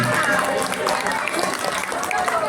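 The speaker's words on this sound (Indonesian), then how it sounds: "Tepuk tangan." An audience at a Maulid Nabi celebration and Quran school graduation applauds a named student, dense continuous clapping filling the short span, loud and close.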